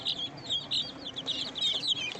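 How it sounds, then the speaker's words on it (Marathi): A village rooster clucks in a rapid, uneven run of short calls, continuing steadily at moderate distance with faint background noise and no talking. "कोंबडा आहे कोंबडा"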